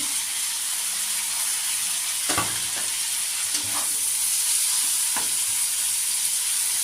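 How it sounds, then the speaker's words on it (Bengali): Chopped tomatoes dropped into a hot frying pan with oil and nigella seeds for a prawn and water lily curry, sizzling steadily up close, with a few sharp stirring clatters and bursts of spitting and no speech. "এবার আমি এর মধ্যে টমেটো কুচিগুলো দিয়ে দেবো"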